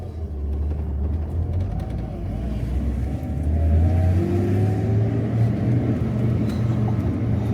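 BMW E30 race car without power steering, its engine droning loud and steady with a low rumbling tone that swells as it accelerates down the road, heard from inside the car with no talking over it.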